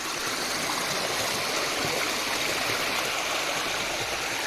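An off-the-beaten-track waterfall at Ajodhya Hill in Purulia rushes in a dense, steady, loud roar of falling water with no breaks and no voices.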